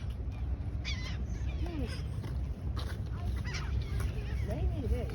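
A large flock of geese or similar fowl honks and calls repeatedly outdoors on a sandy shore, moderately near, with scattered squawks over steady wind and background noise while people talk nearby.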